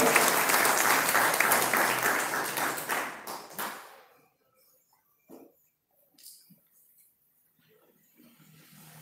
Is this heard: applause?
yes